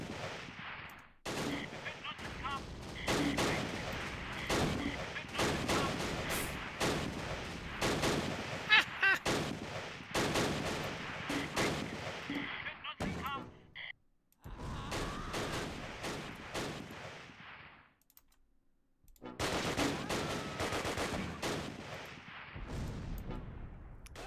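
Sustained bursts of small-arms and machine-gun fire crackle through a WWII battle at Arnhem in the strategy game Close Combat: Last Stand Arnhem, dense and loud with brief lulls, while someone talks faintly beneath it.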